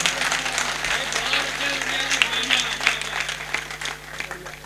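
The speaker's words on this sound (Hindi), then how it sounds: "तालियां बजाकर दीजिएगा आशीर्वाद" Sustained audience applause at a Hindi poetry recital (kavi sammelan), dense clapping from a crowd heard throughout, with a faint voice or hum underneath.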